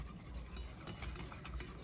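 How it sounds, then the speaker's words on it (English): Flour being whisked into melted butter in a pan for a roux, giving a steady scraping, stirring rasp with light metallic clinks, close and continuous with no talk. "And then we're gonna whisk in some flour."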